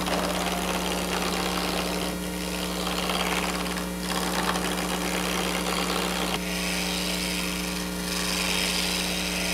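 A wood lathe turns while a spindle gouge rounds out the workpiece, giving a steady motor hum under a broad, hissing scrape that swells and eases as the tool moves back and forth.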